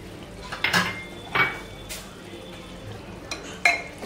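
A spoon stirs mutton and bottle gourd gravy in a cooking pot, with a few scattered metallic scrapes and clinks against the pot and a soft sizzle beneath, close and moderately loud.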